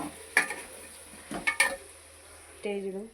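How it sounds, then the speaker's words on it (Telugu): Eggplant is stirred into dalcha frying in a pan, with a few scraping spoon strokes against the pan over a low sizzle, then a brief clink of utensils at the end. "ఇప్పుడు ఈ స్టేజ్లో వంకాయలు వేద్దాం. బాగా మిక్స్ చేద్దాం."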